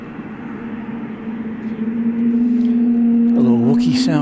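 A plane takes off at night at DFW Airport. A steady engine drone builds and holds loud and close, rising in pitch and growing rougher near the end, with a voice talking over part of it.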